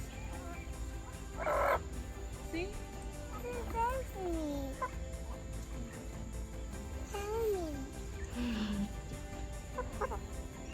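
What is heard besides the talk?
chickens clucking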